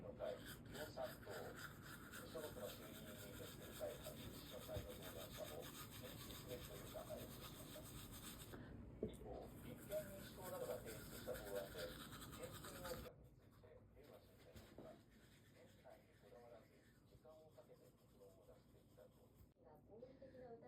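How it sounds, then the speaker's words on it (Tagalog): Toothbrush scrubbing teeth, soft-bristled brush working along the lower teeth in a steady back-and-forth rubbing rhythm, close and continuous, a little quieter in the later part. "So, mag-start na tayo mag-toothbrush."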